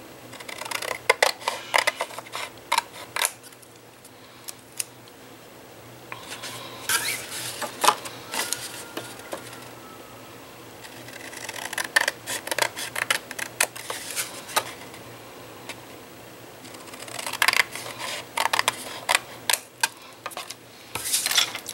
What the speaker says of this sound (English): we're just going to clip it off with our scissors.